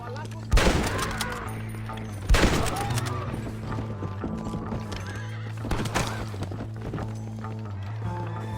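Horses gallop with steady clip-clop hoofbeats and let out loud whinnies in a Red Dead Redemption gunfight chase, with shouting voices and gunfire mixed in over a continuous music bed.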